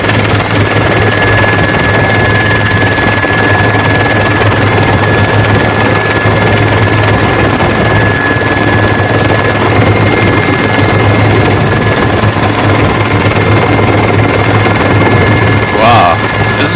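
Loud, constant helicopter rotor thrum and engine whine from inside the cabin while flying over a protest, unbroken throughout, with faint voices underneath.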